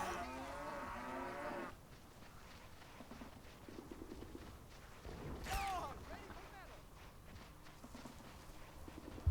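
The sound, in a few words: cows mooing in the video game Men of War Assault Squad 2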